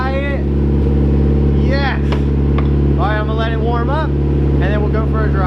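A turbo GTO engine idles steadily right after starting, its low, even rumble loud and close, while people talk over it.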